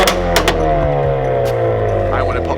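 Close and loud, a Nissan Skyline R34 GTR exhaust rumbles with a shifting engine note and several sharp pops and cracks from a pop-and-bang map.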